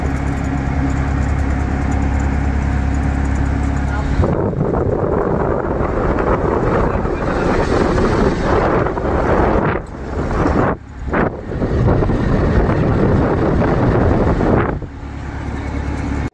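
Rumbling engine and heavy wind buffeting inside a moving CNG auto-rickshaw on a rural road, loud and continuous, with the roar shifting and briefly dipping near the end.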